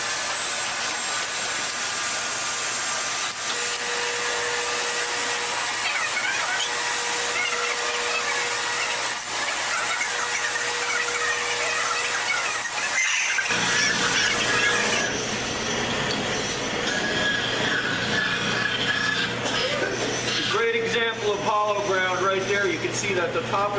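A flat grinder sharpening wood chipper knives gives a loud, continuous whining, hissing drone that shifts in tone partway through, with someone talking over it.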